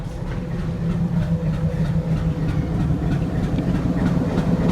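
A Jamaican passenger train passes close by with a steady heavy rumble and a low engine drone, and faint rhythmic clicking from the wheels runs under it the whole time.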